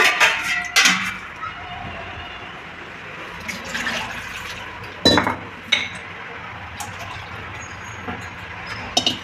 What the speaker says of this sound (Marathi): मी त्याच्यात आणखी पाणी ॲड करेल.